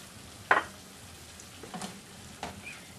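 Ground meat frying in a pan with seasoned tomato, salt and pepper for Moroccan stuffed bread: a soft steady sizzle broken by a few sharper scraping stirs, close by, with no talking.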